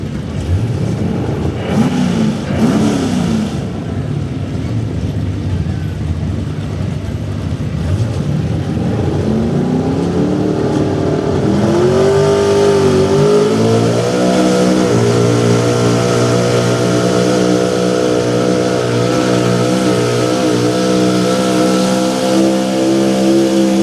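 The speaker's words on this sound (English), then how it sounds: "He just gets that RPM up where he knows it makes power." A pulling truck's engine revs hard at high RPM at a truck pull, a loud sustained roar whose pitch climbs steadily and then holds near its peak, heard alone and close for most of the run.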